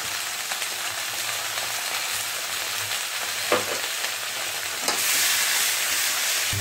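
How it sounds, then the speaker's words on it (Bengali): Black cumin seeds tempering in hot oil for a spicy Bengali tomato chutney with dry fruits, a continuous close sizzle with light crackles, a few clinks, and a louder hiss near the end. "এবার এর মধ্যে 2 চামচ তেল দিয়ে কালো জিরে ফোড়ন দিয়ে লবণ এবং সামান্য একটু হলুদ"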